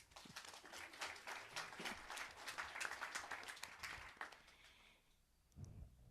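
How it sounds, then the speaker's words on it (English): A church congregation at a Unity Sunday service breaks into sustained, fairly distant applause that fades out after about five seconds, followed by a brief low rumble. "Reverend Michael Gott, round of applause."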